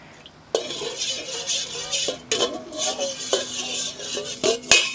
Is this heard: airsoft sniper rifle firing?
no